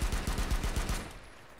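Video game pistol fired on burst mode: a rapid string of about eight close, loud shots in under a second, then a short decaying tail.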